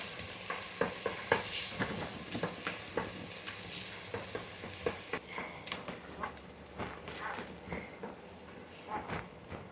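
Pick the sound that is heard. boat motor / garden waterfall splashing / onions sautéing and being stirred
onions sautéing and being stirred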